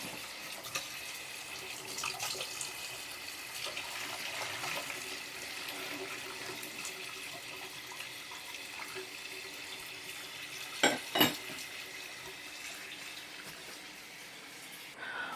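Hot water pours off freshly boiled vegetables in a home kitchen, a steady soft rush like a tap running into a sink, fairly quiet, with a couple of brief sharper clatters near the end.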